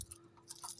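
Keys jangle faintly and briefly as a door key is picked up, with a few light metallic clinks close by and no talking.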